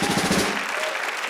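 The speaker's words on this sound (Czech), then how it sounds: "No, teďka tleskáte." Audience applause at a live comedy stand-up show, a dense wash of clapping from a crowd that fills the room at first, then thins and fades toward the end.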